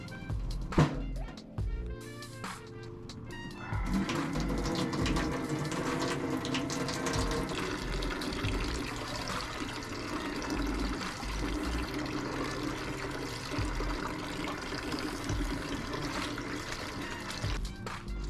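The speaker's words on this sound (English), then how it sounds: "After boiling it for about 2 minutes, then wash it with water" Water runs steadily from a tap into a sink while boiled spinach is rinsed and handled beneath it, splashing and gurgling close by for a long stretch.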